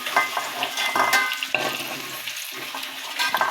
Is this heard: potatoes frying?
yes